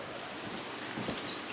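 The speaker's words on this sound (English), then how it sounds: "But also, it's raining outside." Steady rain falls outside, a faint, even hiss of drops on surfaces with no other sounds.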